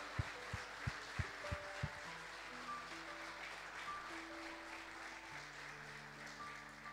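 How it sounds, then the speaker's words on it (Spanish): A congregation in church claps for Jesus, a few sharp, evenly spaced claps standing out at first and then fading into soft, distant applause beneath sustained keyboard chords; the whole passage is quiet. "Dale un fuerte aplauso a Jesús"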